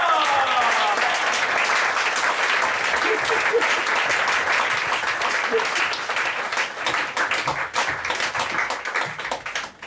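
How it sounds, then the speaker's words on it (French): A crowd applauds steadily, dense clapping at full volume that gradually thins and softens toward the end. "Toujours on l'applaudit plus que moi"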